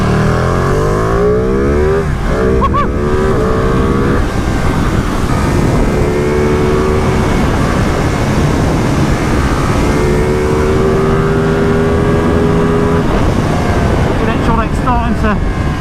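A 2020 Ducati Panigale V2 sportbike ridden hard on a racetrack, its engine roaring loud and close through rising gear pulls with shifts, a steady wind-blasted drone throughout.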